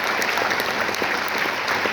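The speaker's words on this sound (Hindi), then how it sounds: "एक बार ताली चाहूंगा जोर से" Audience applause at a business success-story talk: steady, dense clapping from a crowd, loud and continuous for the whole stretch, with no voices over it.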